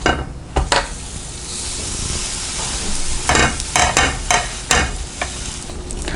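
A yogurt veg sandwich toasts in a pan over a low flame, giving a steady soft sizzle broken by scraping and tapping from a spatula on the pan.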